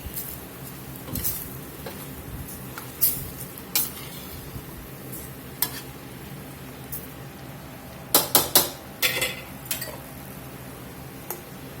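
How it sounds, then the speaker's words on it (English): Sausage and bacon go into a pan of frying cabbage, a soft continuous sizzle broken by a few sharp clinks and scrapes of utensil on pan, with a short cluster of clatters near the end. "Put that sausage and bacon in."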